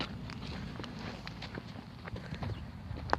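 A horse walks close by, its hooves clip-clopping in a steady, moderately quiet rhythm over faint background noise.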